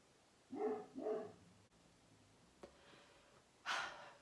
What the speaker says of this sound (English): I think she's done barking.